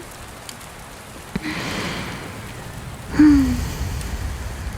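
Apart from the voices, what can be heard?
rain falling at night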